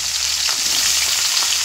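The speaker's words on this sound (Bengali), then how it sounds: "কাঁচকলাগুলো আমি ভেজে নেব।" Green banana pieces and flat beans frying in hot oil for sukto, a loud, steady close-up sizzle without pause.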